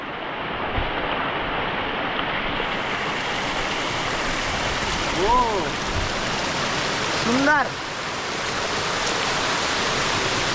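A small waterfall at Nanemachi in the Sahyadri hills, flowing water pouring in a constant, full, close hiss, with brief spoken words and a few voice sounds rising over the rush.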